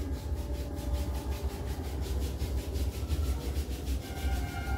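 Two palms rub briskly together to warm them during a yoga routine for headache relief, making a close, even swishing friction that pulses in quick regular strokes with no voices.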